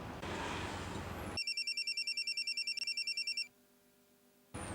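A telephone call is placed: after a short burst of noise, a ringback tone pulses in a fast, even series of beeps for about two seconds, then falls to near silence before noise returns.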